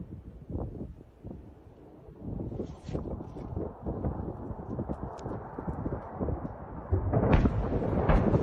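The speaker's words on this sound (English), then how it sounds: "We hear the sounds of the explosions." Airstrike explosions from Israeli Air Force carpet bombing of suspected Hezbollah positions: a string of muffled low booms and thuds, distant and uneven, over rushing wind noise that grows louder near the end.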